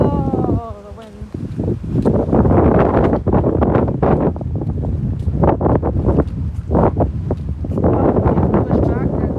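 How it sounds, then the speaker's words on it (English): Gusty typhoon wind in Okinawa buffets the microphone while driving, a rough, roaring rush that rises and falls in strong bursts, with a voice speaking over it. "Oh, the wind."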